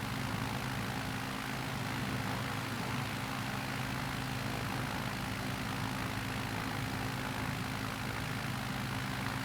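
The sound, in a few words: bush plane engine taxiing uphill in video game Microsoft Flight Simulator 2020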